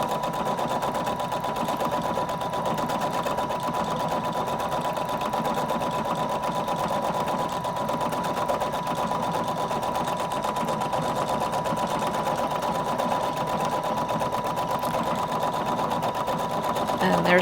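A Husqvarna Viking Designer Brilliance 80 sewing machine stitches out a programmed pattern, its needle running in a fast, steady mechanical chatter that carries on unbroken.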